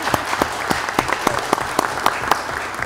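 Sparse, separate hand claps from a small group at a community security committee meeting, about a dozen sharp claps in an uneven rhythm over a quiet room, fairly close.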